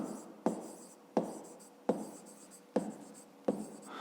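A pen writes on paper while a math exercise is worked out, scratching in regular strokes that come in about five evenly spaced bursts, close and quiet.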